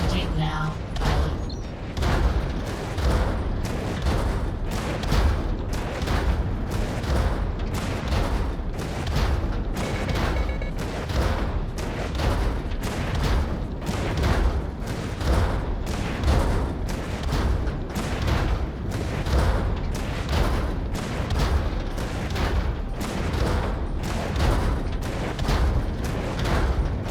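Rapid, loud bursts of mech gunfire pound steadily in Vox Machinae, a VR mech combat game, as a hopper mech fires on the player's machine, with continuous rumbling booms and mechanical clatter across the whole stretch.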